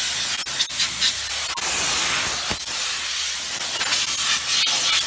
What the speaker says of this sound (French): rinçage vapeur seule